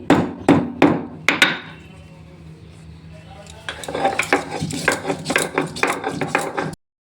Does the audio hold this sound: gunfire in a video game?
no